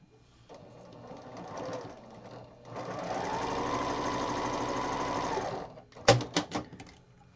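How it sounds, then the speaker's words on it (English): A sewing machine stitches a quarter-inch seam on quilting fabric, running in a soft, uneven stretch and then a steady, rapid run for a few seconds, followed by a few sharp clicks, close and alone. "So I'm going to go ahead and sew this together."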